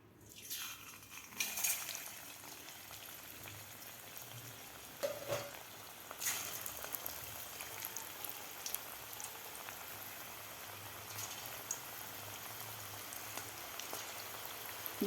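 Mixed vegetable pakoras frying in a kadhai of hot oil give a steady, soft crackling sizzle with scattered pops, holding at a moderate level throughout with no talk.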